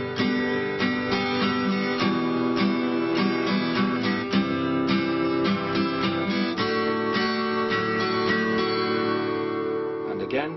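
An acoustic guitar is strummed in a steady, driving rhythmic pattern of ringing chords, played close and even throughout without talking.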